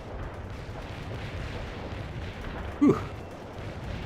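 Artillery barrage in the World in Conflict: Soviet Assault game: a steady, muffled low roar of distant shelling throughout, with one brief louder burst near the end as a man exhales sharply.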